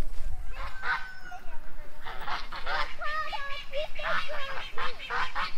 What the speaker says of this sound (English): That little duck thinks he's a goose